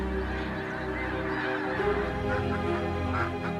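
A dense flock of migrating geese honks continuously along the Mississippi Flyway in autumn, many overlapping calls forming a steady, loud chorus with no pause.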